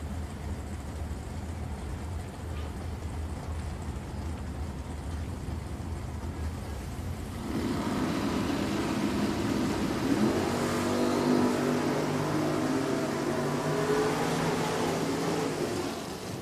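At a drag strip, an 87 Mustang and its rival launch, a low rumbling idle giving way to a loud, sustained roar of engines accelerating away, with no talk over it.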